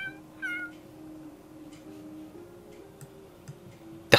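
A cat meows in The Sims 3, a short rising call near the start, followed by sparse ticking and game ambience with a steady tonal hum underneath.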